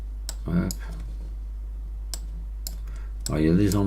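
Computer mouse clicks while erasing on a digital image of antique pottery: a handful of sharp, isolated clicks spaced apart under a steady low hum, with brief speech at the start and end.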